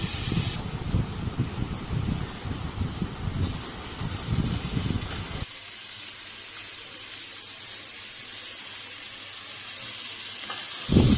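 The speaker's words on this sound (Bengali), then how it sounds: "আবার পেঁয়াজ দিয়ে যে ভাজবো, ভালো করে ভেজে নিয়ে এবার মশলা দেবো" Onions frying in a pan, with a dense sizzle and busy stirring clatter for the first half, then a quieter, steady background hiss after the stirring stops.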